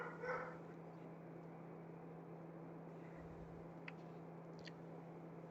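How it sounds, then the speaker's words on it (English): Dogs bark a few times at a house, faint and distant, with a short cluster at the start and then a couple of thin yips over a constant low hum. "so they'll stop barking now"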